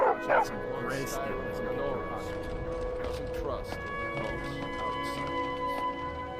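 Dog barking and yipping in the Skyrim VR video game, a few short sharp barks near the start and faint whimpers afterward, with game speech and ambient music layered throughout.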